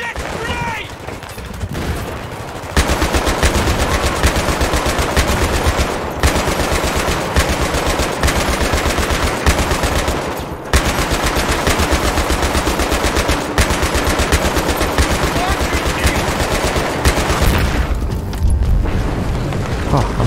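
A grenade blast and sustained machine gun fire in Battlefield 3, loud and dense, with continuous rapid bursts running almost the whole time after a brief quieter start.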